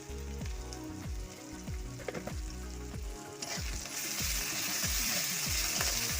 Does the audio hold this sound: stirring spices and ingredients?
yes